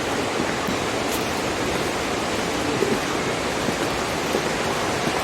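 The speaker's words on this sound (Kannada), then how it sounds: "ನೀರು ಹರಿತಾ ಇರೋ ಸೌಂಡ್ ಕೇಳಿಸ್ತಾ ಇದೆ" A waterfall in Coorg roars with a steady, dense rush of flowing water, continuous and even throughout with no voices.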